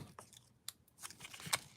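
Scissors trimming paper at a craft table while working with an ivy wreath frame die set, giving several quick, faint snips spread unevenly over a couple of seconds.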